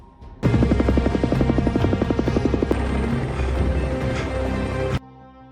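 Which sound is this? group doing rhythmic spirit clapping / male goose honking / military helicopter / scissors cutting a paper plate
military helicopter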